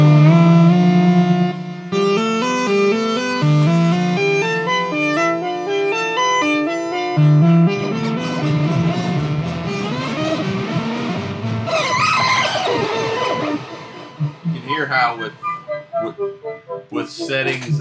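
An Akai EWI4000s wind controller plays iMini synth patches on an iPad, producing loud sustained tonal notes and melodic lines with pitch glides, which turn into wobbly, modulated effects toward the end.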